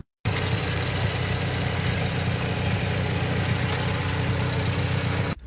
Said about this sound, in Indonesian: aku curiga kenapa ini mobil hidupnya di bagian mesin itu kasar banget cuy